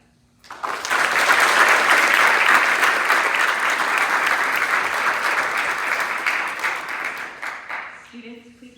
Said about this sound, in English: Please join me in a round of applause to congratulate the newest members of Augusta Prep's chapter of the National Honor Society.